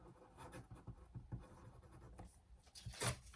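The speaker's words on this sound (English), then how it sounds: "you're going to write the words set in motion" Pen strokes scratch across paper in short, uneven bursts, writing out words at close range; quiet, with no one talking.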